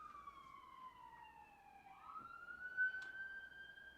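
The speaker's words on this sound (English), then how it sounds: "Some sirens going by." A distant siren wails with a slow falling then rising pitch, faint and steady against quiet background noise.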